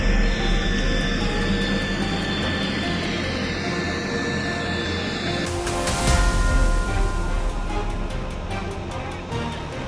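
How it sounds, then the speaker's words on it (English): A massive C-17 military transport aircraft taxiing toward the runway, its jet engines producing a loud, steady roar and whine that swells slightly midway, heard continuously and up close. "the pilots gently steer the massive aircraft toward the end of the runway"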